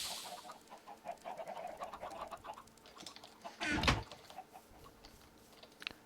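Chickens in a server-based video game cluck and coo in short, quiet bursts, with one louder flutter near the middle over a faint ambient game background.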